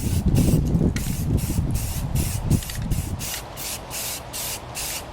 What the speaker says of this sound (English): I'm going to hold the paint can about 6 inches away or so and just do a light coat